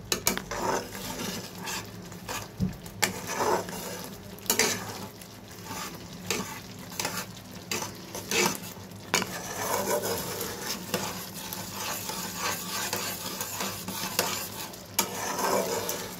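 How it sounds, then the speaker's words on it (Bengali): Spices with black cumin stir-fry over high heat in a pan for fish curry, an ongoing sizzle broken by repeated scraping and clinking of the spatula, close and fairly loud, no speech. "এবার মশলাটাকে ভালো করে সব একসঙ্গে মিশিয়ে একসঙ্গে একটু কষে নেব।"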